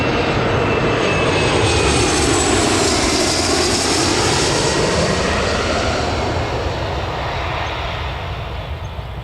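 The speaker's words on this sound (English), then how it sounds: "This is a Logan Embraer A145," A Logan Embraer 145 jet lands at Newcastle Airport, a loud broad engine roar that rumbles and slowly fades as the aircraft passes nearby.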